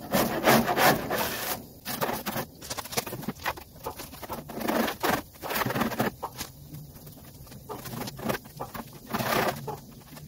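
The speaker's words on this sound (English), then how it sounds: "the way you get the old hood pads off is your standard paint scrapers" Paint scraper working an old hood insulation pad off the underside of a 1985 Mercedes 300D hood, giving close, repeated rough scraping and rubbing strokes in irregular bursts with brief pauses.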